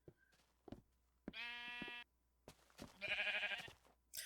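A sheep in Minecraft Infdev bleats twice in loud buzzy game bleats, separated by soft clicks and knocks from the game.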